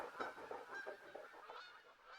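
Goose in the hunting game theHunter: Call of the Wild honks repeatedly in a steady, nasal series, fairly clear and mid-distance, with no talking over it.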